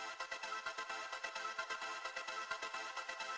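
Pitched-up synth buzzer sample with a fast fluttering pulse, a bright buzzy tone stuttering in a steady rapid rhythm, close and loud with no voices.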